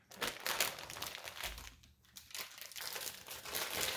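Plastic packaging crinkles and crumples as a raw brisket is pulled out of it, a steady close rustling that runs throughout with a brief lull in the middle.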